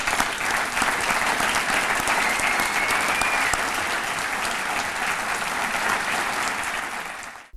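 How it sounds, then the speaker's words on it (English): A crowd claps loudly and steadily throughout, a dense wash of applause that fades out at the very end. "I want to give them all a big applause."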